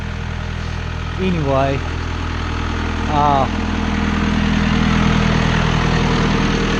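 A tractor engine idles with a low, steady rumble throughout in a field with a Krone Easy Cut 280 mower, while someone speaks briefly over it.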